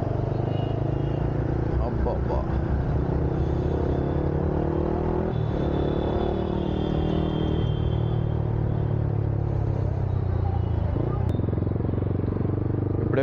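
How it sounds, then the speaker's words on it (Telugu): Steady engine rumble from a Yamaha MT-15 motorcycle riding through busy Hyderabad city traffic, continuous and close throughout, with a rider's voice speaking over it. "హైదరాబాద్ సిటీ అంటే ట్రాఫిక్"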